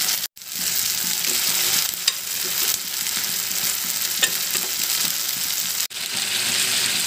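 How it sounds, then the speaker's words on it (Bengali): Broiler chicken pieces frying in a pan with spices that were cooked down first, a loud, continuous sizzle with stirring scrapes throughout and two brief dropouts. "মশলাগুলো ভালোভাবে কষিয়ে নিয়েছি এখন মাংসগুলো দিয়ে দেবো"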